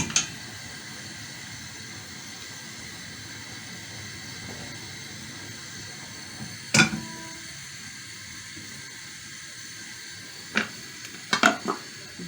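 Bread fries in a pan with a steady, close, low sizzling hiss throughout, broken by a few sharp clatters of utensils against the pan near the middle and end; no talking.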